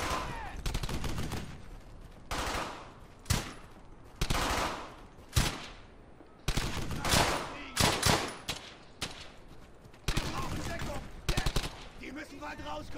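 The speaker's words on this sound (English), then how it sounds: "They're just line firing now." Enemy rifle and machine-gun fire in the World War II shooter Brothers in Arms: Hell's Highway, loud repeated bursts and volleys coming in uneven waves, with brief voices between them.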